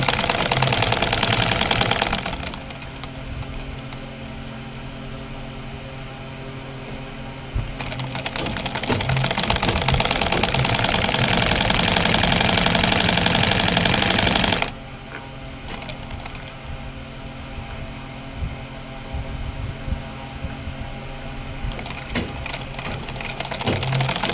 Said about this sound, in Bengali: এখন আমি সোজা এটার উপরে চাপ সেলাই দিয়ে কালো কাপড়টার উপরে ডিজাইন, এটা মুহুরির অংশটা চাপ সেলাই দিয়ে বসিয়ে দিচ্ছি